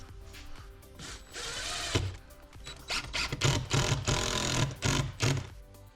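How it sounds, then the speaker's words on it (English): A power drill drives a screw into the metal track of a garage storage rack, with a whirring motor run, a short pause, then a second longer run with pulsing bursts as the screw seats, close up. "let's send in another screw here"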